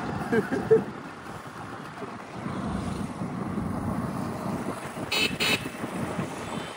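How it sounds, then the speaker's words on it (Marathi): A scooter rides along roads in Punjab with steady wind rush and a low, continuous engine hum. A short horn toot sounds near the end, and faint voices are present. "पंजाब की सड़कों पे हम निकल पड़े स्कूटर पे."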